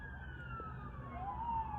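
Police car sirens wailing in a city, a faint wavering tone gliding downward and then rising, heard over a low hum of traffic.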